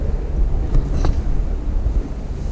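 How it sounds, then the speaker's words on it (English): Breezy wind at a woodland campsite along a forest trail, a steady close rushing with gusty buffeting on the microphone, with no voices. "It's a little bit breezy, not bad."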